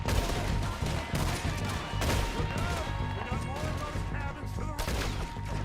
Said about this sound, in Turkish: Oğlum biri bana sıkıyor.